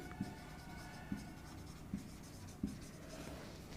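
Pen or marker writing out a maths answer during a class 7 decimals lesson, heard as four or five short, evenly spaced taps and strokes over faint room hiss.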